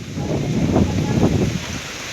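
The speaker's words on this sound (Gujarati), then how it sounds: "જો ફૂલ પવન છે ને વરસાદ આવે છે અટાણે" Strong wind roars over a village during a sudden summer rain, a steady close rumbling gust with a soft wash of rain, and faint voices mixed beneath.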